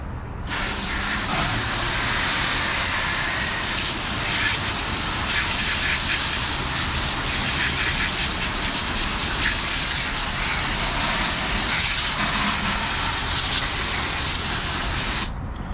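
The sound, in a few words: water spraying from a hose nozzle onto a car wheel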